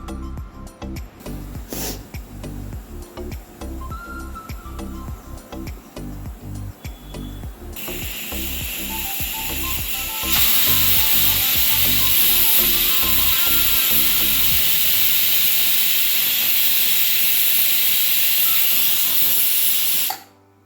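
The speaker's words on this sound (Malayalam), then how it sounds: "ഇപ്പോൾ നാല് വിസിൽ വന്നു ഞാൻ ഓഫാക്കി ഇടാൻ പോവാണ്" A pressure cooker on a home kitchen stove, cooking cucumber curry, rattles in a steady rhythm and then bursts into a loud, sustained hiss of escaping steam for several seconds before cutting off abruptly. No one speaks.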